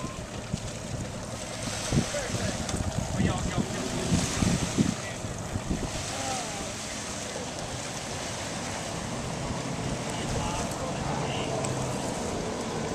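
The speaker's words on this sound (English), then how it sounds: "Another boat coming in." Low rumbling engine of a bass boat approaching over Lake Okeechobee, steady wind and lapping water in the background, with faint voices now and then.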